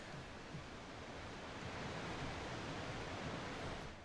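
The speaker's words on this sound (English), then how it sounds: "Man, that waterfall's loud." Loud, steady roar of a waterfall in a farming video game, a dense broadband rush that holds constant throughout with no talk.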